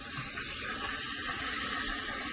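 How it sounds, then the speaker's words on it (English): Tap water pouring into a bucket of brass cartridge cases for wet tumbling, a loud steady hissing gush running throughout with no talk. "And I'll fill it up with water until it's about right here in the bucket."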